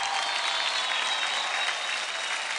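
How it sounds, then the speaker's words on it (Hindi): Loud, sustained applause from a studio audience at a televised Indian dance competition, a dense steady roar of many hands clapping throughout without pause. "जोरदार तालियां हो जाए करण और कालिंग के लिए।"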